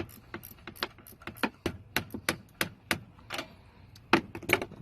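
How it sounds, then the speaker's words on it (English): A ratchet wrench cranks a puller to draw a glow plug free of a diesel engine head, giving a quick series of sharp, close mechanical clicks in an uneven rhythm, with a few louder clacks near the end. "ratchet the back half of it out, and this will pull the plug"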